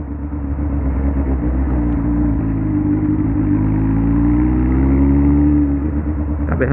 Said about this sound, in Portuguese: Tá berrando muito essa Hornet